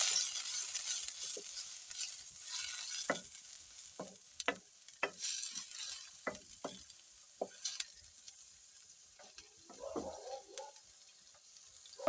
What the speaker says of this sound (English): So we stir.